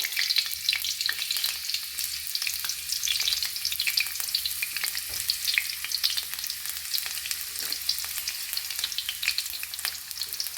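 Chopped garlic and ginger sauté in a pan for a pasta dish, giving a steady, close sizzle with constant crackling and light stirring throughout, with no voices.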